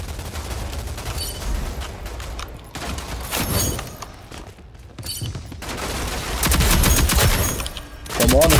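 Bursts of rapid automatic gunfire from the shooter video game Rogue Company, loud and close with dense volleys and heavier flurries near the end, while players talk over the action.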